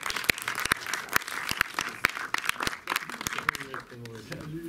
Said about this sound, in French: on finit par des applaudissements